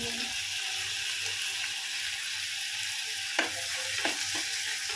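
Tomato masala sautéing in a pan for noodles gives a steady, close sizzle and hiss, with a few soft scraping stirs near the end and no talk.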